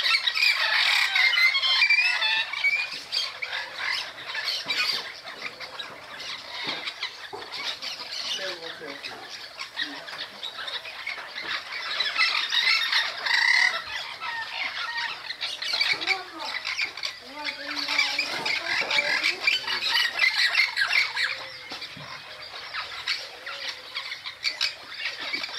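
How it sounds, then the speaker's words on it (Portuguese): Many parrots squawk by the São Lourenço river, a dense chorus of harsh, overlapping shrieks from a flock in the trees, loud and continuous with a voice speaking intermittently beneath. "Tem tantos papagaios aqui hoje"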